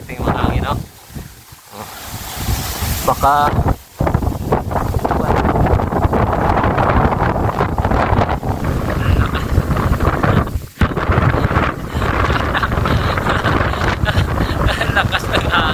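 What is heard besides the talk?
strong wind on mountain summit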